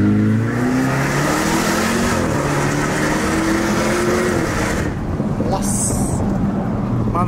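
A Jaguar car's engine drones loud and close, its pitch rising steadily as it accelerates, then the tone shifts and fades slightly near the end.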